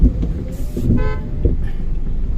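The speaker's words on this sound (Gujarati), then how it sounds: "વરસાદને લીધે એકદમ જોરદાર ટ્રાફિક થઈ ગયો છે અહીંયા." Heavy road traffic in rain in Sanand, with car engines rumbling close by and a couple of short horn toots sounding over the steady roar.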